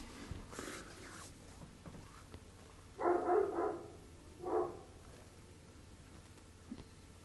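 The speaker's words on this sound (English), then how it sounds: "don't know if you can hear dogs barking" Dogs bark outside a workshop window, a few distant bursts, two short clusters in the middle, faint and muffled against a quiet room.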